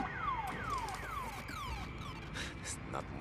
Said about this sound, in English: I need to turn this alarm off.